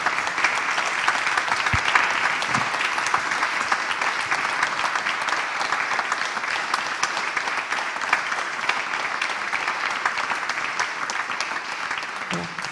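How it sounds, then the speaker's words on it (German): A large audience at a live German podcast recording, Soziopod Live, breaks into long, dense, sustained applause that stays steady and loud throughout, with no speech over it. "einen ganz, ganz großen Applaus an Patrick Breitenbach und Nils Köbel"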